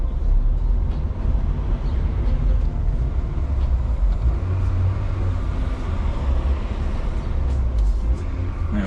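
An Acura Integra GSR engine runs steadily on a short street, a low continuous drone with rising road and engine noise and no talking.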